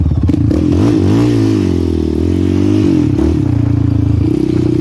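Yamaha Raptor 700R ATV ridden hard on a trail with whoops, its engine loud and close, revving up and down through rising and falling pitch sweeps with steady rattling clatter underneath.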